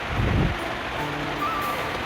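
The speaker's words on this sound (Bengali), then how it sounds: "প্রতিদিন এইরকম বৃষ্টি কার কার ভালো লাগে বলো" Heavy rain falls steadily near an open window, making a dense, even hiss that fills the whole stretch, with a brief louder rumble at the start.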